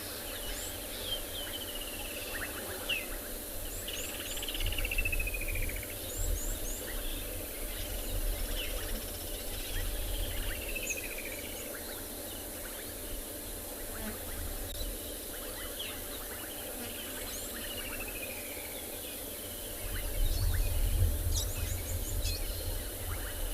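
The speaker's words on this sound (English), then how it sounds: "Seems like a lot of the birds in particular are quite chirpy after the rain that we've had" Birds chirp and call over a steady hiss of crickets and insects in South African bush after rain, including woodland kingfishers and brown-headed parrots, with many overlapping calls at a distance in a continuous outdoor ambience.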